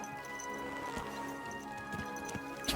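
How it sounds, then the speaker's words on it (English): Hooves clopping in the game Kingdom Come: Deliverance 2, a few spaced, moderately close thuds over a steady ambient hum, with a louder knock at the very end. "There's a horsey."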